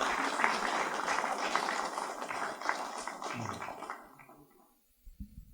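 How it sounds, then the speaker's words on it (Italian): Audience applause for Zia Veronica at a centenary conference, a dense, steady round of clapping that fills the room for about four seconds before tapering off into near silence. "E facciamo un applauso anche a Zia Veronica"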